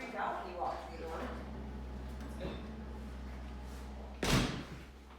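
A door opens and closes with a loud thud near the four-second mark as a dog walks through indoors, preceded by a person talking over a steady low hum.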